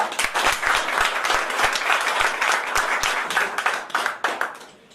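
A seated audience at a company's business plan presentation claps together in a strong, steady burst of many hands, sharp individual claps standing out before the applause thins out at the end.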